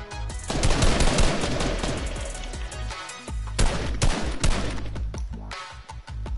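Rapid automatic gunfire from a video game rattles in loud, dense bursts, with a brief pause midway before more fast volleys of shots follow.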